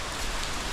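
Rain falls in a brief, soft wash of dense, crackling patter across a broad hiss, even and continuous, with no talking.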